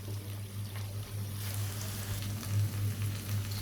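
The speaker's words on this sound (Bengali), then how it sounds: "এখন আর একটু শুটকিগুলো পেঁয়াজ রসুনের সাথে ভেজে নেব।" Chapa shutki (dried fish) frying in a pan with onion and garlic gives a steady close sizzle that crackles throughout, with a low electrical hum underneath and no talking.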